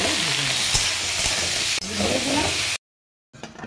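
Potatoes fry in oil in a pan, a loud close sizzle with stirring scrapes, broken by a brief cut to silence before the frying returns faintly.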